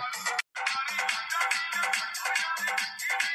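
A mobile phone ringtone loops a short bright musical phrase over and over, loud and close, with one brief break near the start and no voices.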